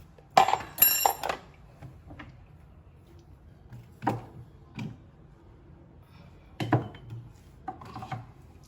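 Chopped coriander, tomato, onion and capsicum being stirred together in a bowl, giving a few soft, scraping clinks of a spoon against the bowl in short separate bursts with quiet gaps between, close and fairly faint.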